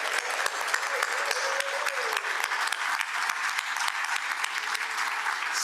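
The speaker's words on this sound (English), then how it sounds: "give you a big round of applause." A crowd at a Rotary meeting claps steadily for several seconds, a dense, even patter of applause with a faint voice underneath.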